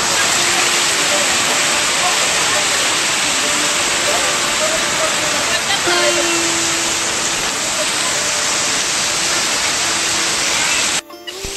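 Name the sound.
water flowing into Dhareshwar Shiva temple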